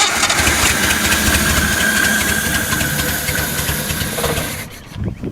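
Engine of a 1974 Datsun 260Z being cranked, running rough on one bank and short of fuel: a steady, loud, hissing mechanical churn that holds for several seconds and then cuts off near the end.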